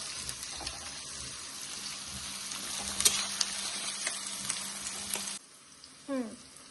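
Marinated chicken frying among fried onions in a pan, a steady broadband sizzle with occasional stirring clatter, cutting off near the end before a short voice is heard.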